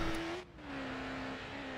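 A car engine in Need for Speed: Hot Pursuit 2 drones with a steady tone, briefly dipping and then settling at a slightly lower pitch, with a faint road hiss beneath.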